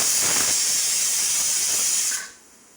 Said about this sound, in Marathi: हे बघा आता कुकरची शिट्टी होत आहे.